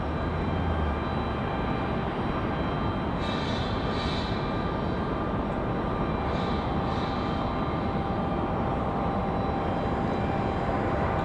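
A Boeing 787 Dreamliner airliner at Raleigh-Durham International Airport gives a steady, broad jet roar that holds for the whole stretch, with faint higher whines rising and fading partway through.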